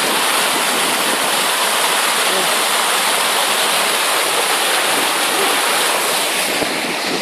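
A moorland stream on Dartmoor flows in a constant, loud, close rush of water with wind buffeting the microphone, and no voices at all.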